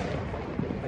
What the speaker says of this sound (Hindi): तो अब हम भी चलाने लगे हैं पटाखे